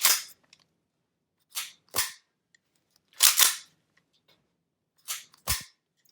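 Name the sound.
4.5mm pistol being fired repeatedly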